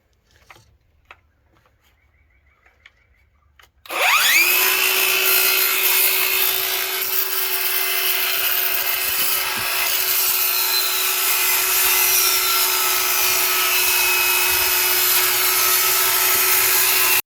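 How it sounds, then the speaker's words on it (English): A circular saw spins up to a loud, steady high whine and keeps cutting through a tongue and groove board in a gambrel ceiling. A few small knocks come before it starts. "So I'm going to use my circular saw, and I got it to the correct depth here"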